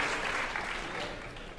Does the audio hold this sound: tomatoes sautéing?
no